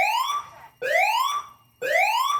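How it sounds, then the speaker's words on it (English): A building evacuation alarm sounds three loud rising whoop tones in steady succession, each sweeping upward for under a second before a brief gap. "warning for the sound of an evacuation alarm"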